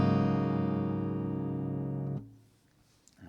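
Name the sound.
open chord strummed on a properly tuned guitar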